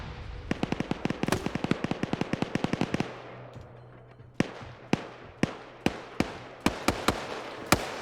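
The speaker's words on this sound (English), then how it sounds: "Hearing some long-range fire from the tower." Long-range video-game gunfire from a tower: a rapid automatic burst of sharp cracks, then a steady series of single spaced shots with echoing tails, moderately distant.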